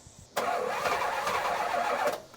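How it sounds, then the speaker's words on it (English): Engine of a 1977 Pontiac Can Am cranks over loudly and close for nearly two seconds with a steady rough churn, then cuts off. "Let's see if we can crank at least."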